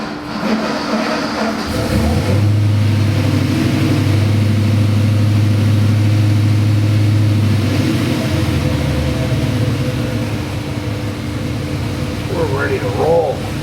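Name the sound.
Gen III Hemi engine revving on a dyno run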